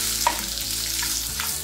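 Half a tomato frying and stirring in a pan for aloo palak mutter, a steady close sizzle with a few soft scrapes of the spoon, no talking.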